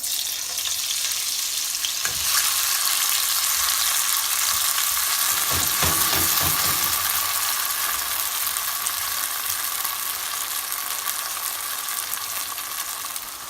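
Chopped chilies for hot sauce sizzle loudly and steadily in a hot pan, a constant bright frying hiss with a brief stirring rattle partway through.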